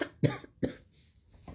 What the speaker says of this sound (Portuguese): a minha tosse é o tempo que tá seco